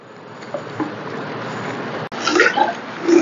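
Freshly churned homemade butter is washed in water, with soft sloshing and splashing that turns louder and more agitated in the second half.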